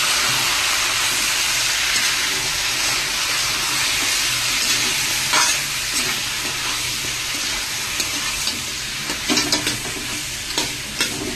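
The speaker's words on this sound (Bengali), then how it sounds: "তো চিকেনটা আমি একটু ভালো করে ভেজে নেব।" Chicken fries in a pan with a continuous crackling sizzle close by, broken by stirring scrapes and clatters that grow busier toward the end.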